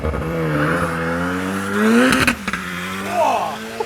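A 525 hp Ariel Atom 4RR race car launches hard from the start on a test track. Its engine climbs in pitch through the gears, loud and close, with a brief sharp burst near the middle and no talking.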